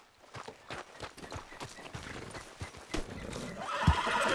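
A horse in the Red Dead Redemption 2 video game whinnies loudly near the end after a run of steady clip-clopping hoofbeats, heard close up with no speech.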